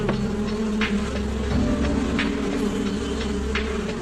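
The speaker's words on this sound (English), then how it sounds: "the bees would need to start stinging to make the other bees aggressive" Bees buzzing in a steady, continuous drone that stays close and even throughout, with no one talking.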